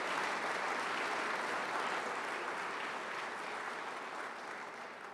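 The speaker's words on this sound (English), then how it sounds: "Let's give them a big round of applause for the work they're doing." Steady applause from a large audience at a senator's energy policy talk, a dense, even patter of clapping sustained for several seconds and slowly fading near the end.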